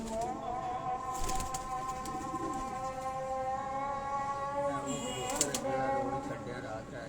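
Pigeons coo softly on a rooftop in Kasur, with occasional wing flutters, while people talk nearby throughout.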